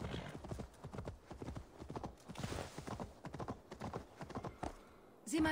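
Rapid, rhythmic hoofbeats of a horse in Assassin's Creed Valhalla clip-clop at a steady trot, fairly quiet, ending with a brief louder burst of sound.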